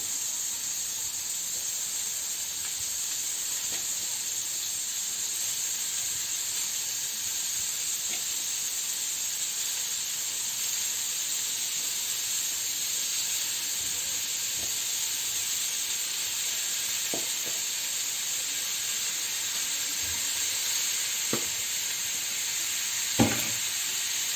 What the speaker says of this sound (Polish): Dajemy to na mocny ogień, żeby nam się to smażyło, a nie dusiło.